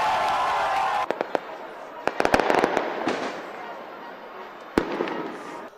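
Fireworks go off in a Brazilian favela as fans celebrate goals during a Brazil football match, with loud, sharp cracks and bangs in irregular bursts over crowd noise and talk.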